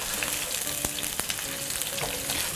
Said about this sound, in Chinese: 中小火给它炸一炸